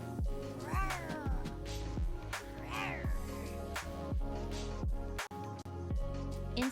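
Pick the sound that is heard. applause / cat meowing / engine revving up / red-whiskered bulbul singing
cat meowing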